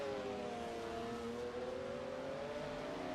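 Very loud Porsche race car in a GT500 racing video game at Laguna Seca: a steady high-pitched engine scream holding near-constant revs with a slight pitch sweep as it passes, quiet overall and with no talking.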